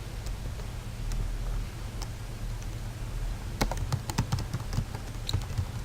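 A URL is typed on a computer keyboard, with irregular keystroke clicks over a steady low background hum, growing busier and louder toward the end.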